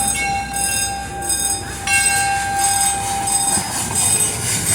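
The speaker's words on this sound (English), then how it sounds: "A train? Is this 1942?" A train rolls past at Cedar Point amusement park on a rainy day, a loud steady rumble of wheels on rail with high metallic squeal tones running through the whole passage, up close.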